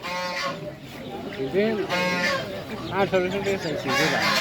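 Chinese geese at a busy poultry market in Nawabganj give loud, nasal honking calls in repeated bursts close by, over a constant background of market noise.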